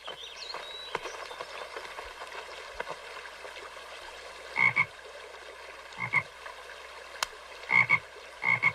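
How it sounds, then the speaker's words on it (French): Frogs croak in short bursts over a steady trickle of a running stream, a few separate calls spaced out across the recording. "j'ai vu des grenouilles dans le ruisseau."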